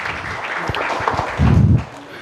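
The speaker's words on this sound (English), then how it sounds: "A big round of applause, everybody, for our Vice Chairman, sir." An audience at an engineering faculty inaugural session applauds the Vice Chairman, scattered clapping that thickens into a louder burst near the end before dropping away, with low murmuring in the room.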